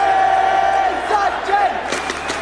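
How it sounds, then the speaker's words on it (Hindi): A packed crowd at Wankhede Stadium in Mumbai during Sachin Tendulkar's final Test match in November 2013 chants together with a loud sustained roar and rising cheers, dense and close. "पूरा स्टेडियम एक आवाज में गूंज उठा।"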